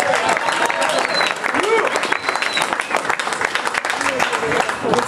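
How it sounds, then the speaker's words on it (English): Applause at a post-fight boxing press conference for boxer Paulie Malignaggi, steady dense clapping throughout with voices and crowd chatter mixed in, fairly close and loud. "So please give a warm applause to Paulie Malignaggi."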